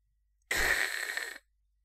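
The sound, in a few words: sharp inhale breathing sound, Doki Doki Literature Club video game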